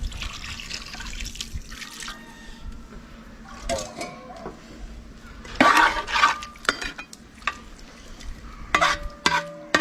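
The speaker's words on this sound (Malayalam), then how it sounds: "വെള്ളം കൂടെ ഒന്ന് നമ്മൾ ഒഴിക്കുകയാണ്." Water poured into a pot of Kerala-style murrel fish curry, with sizzling, stirring and clinking bursts over a low background hiss; the sounds come in short clusters, close and moderately loud.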